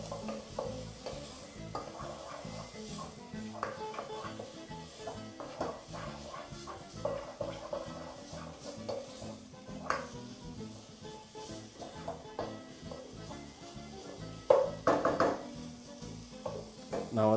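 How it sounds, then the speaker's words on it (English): Cumin powder and chaat masala being stirred together in a pot for mutton biryani: continuous low sizzle under steady scraping strokes, with a brief louder clatter of utensil on pot near the end. "just proceed now to mix everything together"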